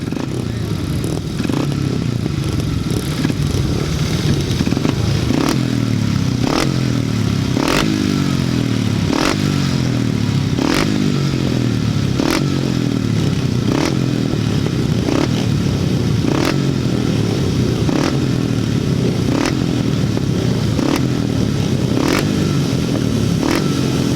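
Grasstrack racing motorcycles leaving the start of a 350 race, a loud roaring pack of engines revving hard and sustained, with rhythmic sharp crackling bursts throughout and no talking.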